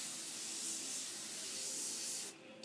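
An airbrush sprays paint onto a t-shirt in a soft, steady hiss held close for a couple of seconds, then cut off abruptly, leaving near quiet with no talking.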